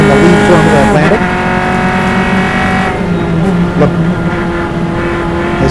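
Formula Atlantic single-seater race cars battling nose to tail at Mid-Ohio during an SCCA club race, a loud, continuous high-revving engine drone that swells and shifts pitch as the cars pass and change gear.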